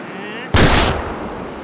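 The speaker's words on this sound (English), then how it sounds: "Fire a celebratory rocket" A rocket launcher fires once in the VR shooter H3VR, a sudden loud blast that trails off into a rumbling tail, with faint ambient noise before it.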